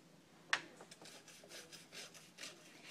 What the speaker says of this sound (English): Hold the brush vertically and use short strokes to clean the inner surfaces.